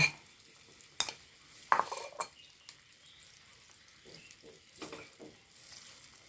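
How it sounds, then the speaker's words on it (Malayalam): A grated carrot dessert mixture being stirred in ghee in a pan, with a few sharp spoon knocks against the metal and soft scraping, quiet and intermittent. "നല്ലോണം ഇളക്കി കൊടുക്കാം"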